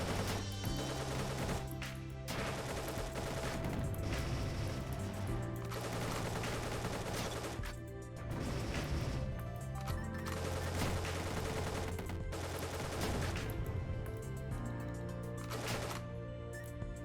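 Rapid AK rifle fire from the PC roguelike Dungreed, continuous bursts of dense gunfire layered over steady game music and effects throughout, with no talking.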